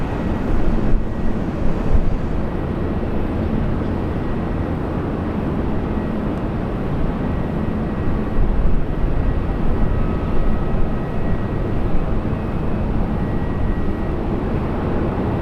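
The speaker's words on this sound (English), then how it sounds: "So we've got a Fokker 100. Next one in on approach." A Fokker 100 jet on approach to Brisbane Airport gives a steady, broad low roar that holds evenly throughout, heard from outdoors with some wind buffeting and no voices.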